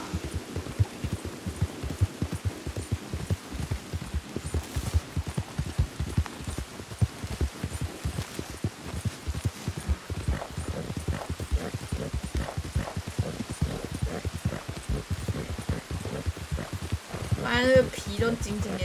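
Horse hooves clip-clopping over rain-soaked ground in the Red Dead Redemption 2 video game, a steady dense rhythm of close hoof falls with rain hiss beneath.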